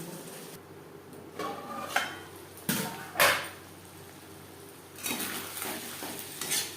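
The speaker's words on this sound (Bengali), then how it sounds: "মশলার সাথে আলু বেশ ভালো করে মিক্সড করে দেবো।" Potatoes being stirred with spices in a pan, with a soft sizzle beneath intermittent scrapes and clinks of a utensil against the pan.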